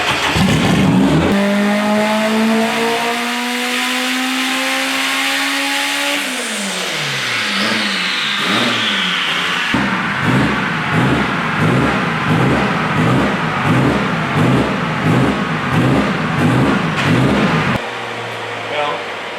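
A turbocharged Honda Civic engine revs hard on a dyno, climbing steadily then pulsing in a fast rhythmic bounce against the rev limiter, loud and close, ending with a brief drop to idle.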